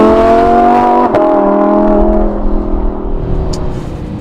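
Lamborghini Huracan V10 fitted with a Supersprint exhaust, revving loud and close: a high, steady howl that drops with a sharp crackle, then settles into a lower, fading drone with no talk.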